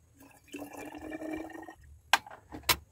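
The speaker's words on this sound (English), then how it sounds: "we will decant our copper nitrate here" Copper nitrate solution decanted during gold and silver refining, a soft liquid pour running for over a second, then two sharp splashing drips, fairly quiet.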